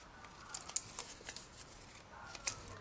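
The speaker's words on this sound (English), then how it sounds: "And we'll trim off the ends." Scissors make a few quiet, crisp snips, trimming the paper ends off a strip for a handmade card, with soft paper handling between cuts.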